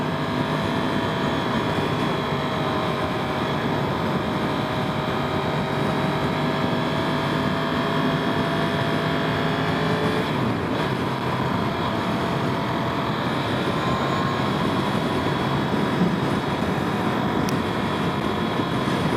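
A 2021 Yamaha R1 at steady cruising speed gives a continuous broad drone of engine and wind roar from the rider's position, unbroken for the whole stretch with no voices.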